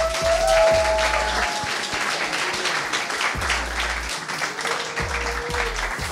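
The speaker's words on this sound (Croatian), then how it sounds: "A ja vas volim jedan veliki pljesak za njih dvoje." A studio audience at a televised talent show finale gives a big round of applause for two contestants, dense sustained clapping filling the room at full volume with no voices on top.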